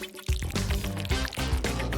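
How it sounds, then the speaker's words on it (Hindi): Aloe vera gel from a freshly opened leaf pouring into a blender, a thick, wet, glugging flow heard close and steady for about two seconds over background music. "इसमें से जितना भी जेल होगा वो सारा ब्लेंडर में चला जाएगा"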